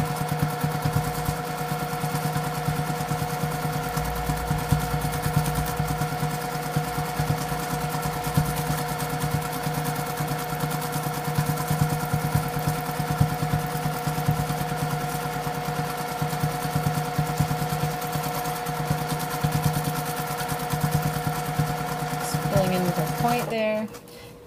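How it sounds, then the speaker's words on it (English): A sewing machine runs fast and steady for free motion stitching of a wood grain texture on a quilt, its loud rhythmic whirring continuing unbroken until it stops just before the end. "if your free motion stitching is a little wobbly"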